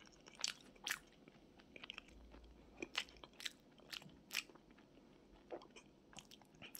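Someone eats chewy glutinous rice sweet potato bread with a filling inside, producing quiet, close, irregular crunchy bites and chewing clicks in scattered bursts, with no talking.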